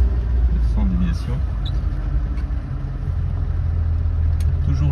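A classic BMW 1802 on the road, its engine a steady low rumble close up inside the cabin while people talk over it.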